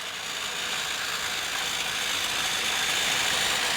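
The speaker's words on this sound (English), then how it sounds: "Redesigned Trackmaster motorized engines are pretty strong." A motorized Trackmaster Scruff toy train engine runs on its track hauling a load of scrap, giving a steady, close mechanical whirring and gear rattle that holds at an even level throughout.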